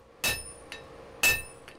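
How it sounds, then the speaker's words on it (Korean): A blacksmith hammers metal at a traditional forge: two heavy, ringing strikes about a second apart, each followed by a lighter tap, close and clear. "망치질부터 하나씩 배워가고 있는"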